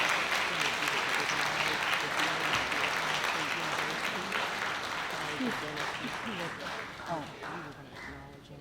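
Gala audience at the King Arts Complex applauding people as they return to their seats, sustained clapping from a crowd that gradually tapers off, with voices talking beneath and over it.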